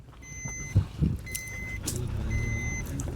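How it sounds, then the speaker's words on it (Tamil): A jeep arrives along a village road near Kotagiri, its engine rising from faint to a steady close drone, with a couple of soft knocks and thin electronic beeps at intervals. "ஒரு வண்டி வந்திருக்கு பாருங்க ஒரு ஜீப் வந்திருக்கு பாருங்கள்"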